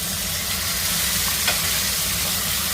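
Peanuts, chana dal, urad dal, cumin, green and dried red chilies and curry leaves sizzle in hot oil, a steady close crackling fry with a light stir partway through.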